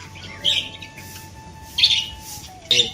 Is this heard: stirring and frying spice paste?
no